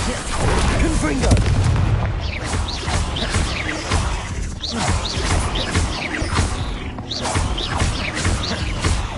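A Confringo blasting spell goes off in a Harry Potter video game, with heavy booming blasts, crashing debris and sharp cracks layered densely and loudly over nine seconds.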